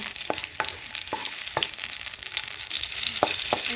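Garlic sautéing in hot cooking oil for a fish dish, a bright continuous hiss of frying with several sharp utensil clinks against the pan, close and fairly loud, no voices.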